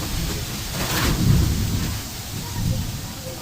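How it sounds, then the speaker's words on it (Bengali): Heavy rain drums on a tin roof during a sudden storm with cold wind, with rolling thunder swelling in the middle; loud and close, no talk. "ঠান্ডা বাতাস আর টিনের চালের উপর বৃষ্টির ঝপঝপ শব্দ"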